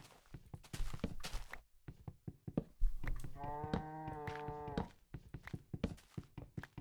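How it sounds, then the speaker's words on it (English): Cows mooing in Minecraft, a drawn-out harmonic moo in the middle with short game thuds and footstep-like clicks before and after, no talk. "The cows sound so silly in this version."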